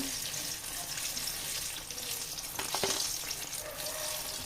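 Jackfruit fritters deep-frying in hot oil, a steady bubbling sizzle with faint clinks of a utensil turning the pieces, close by and continuous.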